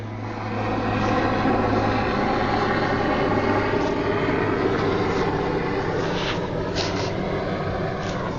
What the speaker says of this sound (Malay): Itu dia helikopter musuh.